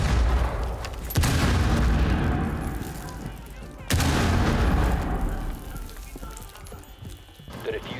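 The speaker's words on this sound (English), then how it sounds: "Frag grenade out." A frag grenade explodes in a shooter video game, with deep booming blasts around one and four seconds over a dense wash of rumbling gunfire and battle noise that continues throughout.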